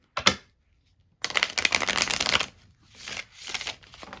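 Tarot cards being shuffled up close: a short riffle, a pause, then a long dense burst of flicking cards followed by two shorter rustling bursts.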